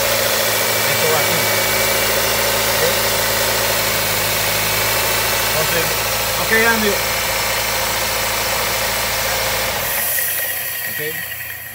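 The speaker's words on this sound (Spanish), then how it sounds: "you want to start the car for me, please?" A Nissan Altima with a P0171 code and power loss idles with a steady, loud engine hum, while someone speaks briefly over it. The engine cuts out near the end, leaving quieter background.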